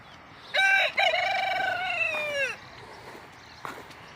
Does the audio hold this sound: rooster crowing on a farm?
yes